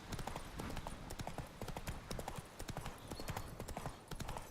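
Hooves of Roach, Geralt's horse in The Witcher 3: Blood and Wine, clip-clopping at a steady trot, crisp and close with an even rhythm throughout.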